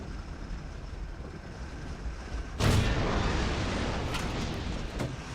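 A Tiger H1 tank cannon fires in War Thunder with one sudden loud boom partway through, followed by a long rumbling decay over steady wind-like background noise, with no voices.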